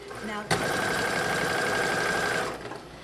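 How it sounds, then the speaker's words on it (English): A sewing machine runs a continuous straight stitch for about two seconds, a steady mechanical whir with a brief start and stop, while someone talks quietly over it; the work is a baby sling. "I'm going to straight stitch all the way down."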